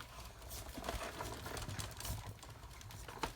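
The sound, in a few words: die-cutting machine being cranked through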